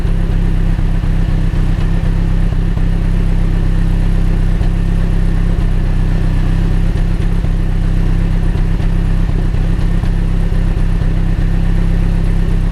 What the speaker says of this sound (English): here's the exhaust. I mean, you won't be able to see it very well with the light, but just listen.